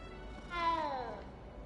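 Cat in Hogwarts Legacy gives a single short meow, clear and fairly close, over a quiet low background.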